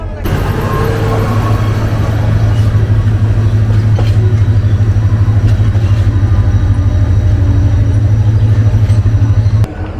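Tista Express train, on the Dhaka to Dewanganj route, rumbles loudly and steadily with a deep, constant engine drone and rattling carriages, heard up close from on board for the whole stretch.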